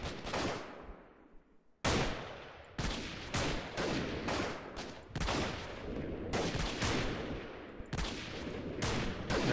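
Repeated sharp gunshots crack out in close bursts from the guerrilla shooter game Freeman Guerrilla Warfare, loud and dense with brief gaps between volleys as each report rings and decays.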